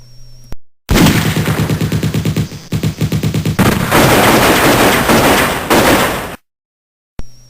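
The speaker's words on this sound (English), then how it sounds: "We're in the middle of an artillery duel." An animated battle scene with artillery firing high explosive and white phosphorus shells, heard as loud, rapid rattling volleys and sustained explosive roar, cut off abruptly into silence at the end.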